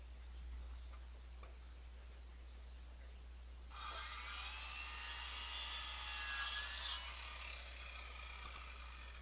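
A saw cuts into a log along a drawn line during a homestead cabin build. It makes a steady scraping cut for about three seconds, close by and alone, against a quiet low hum.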